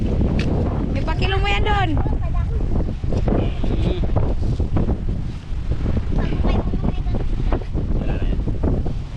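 Strong northeast monsoon wind buffets the microphone outdoors, a rough, gusty rumble running under a voice and scattered handling noises.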